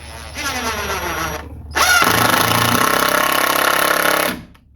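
A power drill pre-drills through 1.5-inch-thick wood for crawl space entry steps, whining steadily, pausing briefly, then biting in harder and louder before spinning down at the end.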